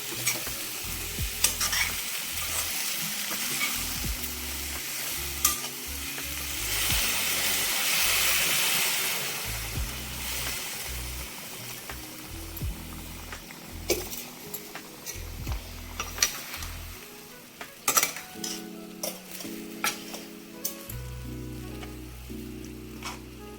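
Gongura leaves and half a kilo of prawns cook in oil with a continuous close sizzle and stirring scrapes, punctuated by sharp utensil clinks and a low background hum.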